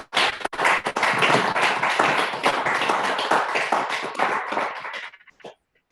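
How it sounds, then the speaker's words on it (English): A small audience claps for two speakers on digital finances, a close, lively round of applause with distinct individual hand claps that builds quickly, holds for several seconds, then thins out to a few stray claps and stops. "There you can hear the applause"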